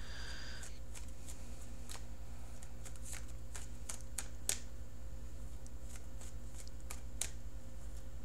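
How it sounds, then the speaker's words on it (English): Tarot cards are shuffled and cut close by, giving a quiet run of crisp riffling flicks and soft taps spread over several seconds against a faint steady hum. "so cutting the cards"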